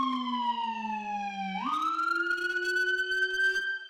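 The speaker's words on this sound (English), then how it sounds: "Which is a low frequency siren meant for the attention of drivers in a more dense area" A deep Whelen howler low-frequency police siren drones low, then sweeps upward in pitch and holds a loud, steady wail.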